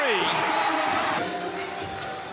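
Basketball arena crowd at an NCAA men's college game, Louisiana against Georgia State, cheering loudly and steadily throughout, a broad wash of roaring voices with whoops over the top, a commentator talking over it.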